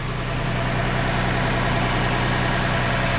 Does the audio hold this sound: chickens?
no